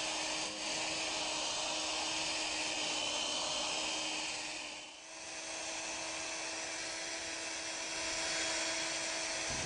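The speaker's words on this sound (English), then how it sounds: "While you're sanding, you're going to want to cover the whole lamp as you're sanding." Sanding a car headlight lens with a 3M restoration kit produces a steady, loud whirring drone close by that holds nearly constant with one brief dip midway, no voices.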